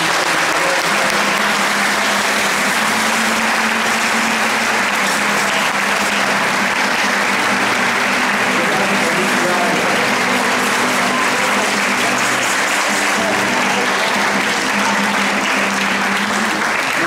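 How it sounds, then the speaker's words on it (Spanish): Sustained applause from a congregation in a church during Mass, a dense continuous clatter of many hands filling the room at full volume from start to finish. "Un aplauso."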